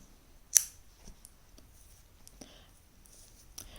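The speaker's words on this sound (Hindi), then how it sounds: "यहाँ पर हमने धागा काटा है" Scissors make a single sharp, close snip through crochet yarn, followed by a few faint clicks and small handling sounds in a quiet room.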